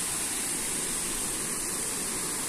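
Wangsai waterfall on Koh Phangan, heard as a steady, dense rush of falling water that fills the whole moment evenly, close and constant with no other sounds standing out.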